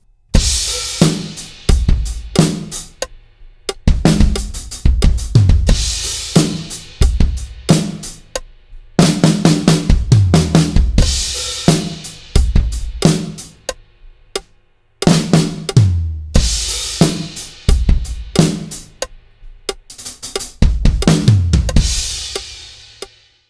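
A drum kit groove with a fill that breaks off into a quarter-note pause on beat one before jumping back in, with loud punchy kick, snare and crashing cymbals recurring in repeated phrases and sharp silent gaps between.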